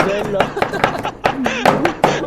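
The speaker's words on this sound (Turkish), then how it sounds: "Biberleri doğramaya geçiyoruz. Böyle halka halka doğramanız yeterli." A knife chopping peppers into rings makes quick, regular taps on a board, heard under a person talking.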